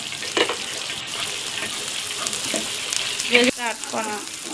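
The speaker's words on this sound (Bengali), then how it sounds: "এটা একটু তেল ভেজে নিচ্ছি আমি।" Green and red capsicum and carrot frying in oil with a little ghee, giving a steady close sizzle with occasional stirring scrapes and clinks in the pan.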